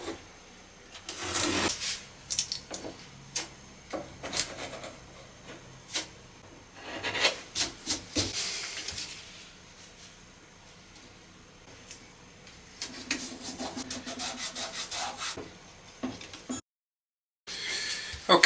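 Veneer repair pieces being cut and fitted on a 1920s hallstand: scattered rasping rubs and light scraping strokes, close and moderately quiet, bunching into a busier spell near the end before a brief gap.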